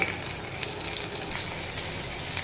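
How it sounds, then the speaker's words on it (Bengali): Chopped garlic frying in mustard oil mixed with soybean oil, a close, even crackling sizzle with fine popping that continues steadily and alone throughout. "রসুন কুচি ভেজে নেব"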